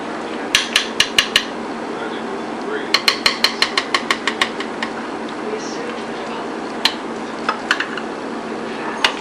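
A knife cuts into a crispy homemade peach cobbler, with clusters of sharp clicks and scrapes against the dish in quick bursts and then scattered taps, while someone talks.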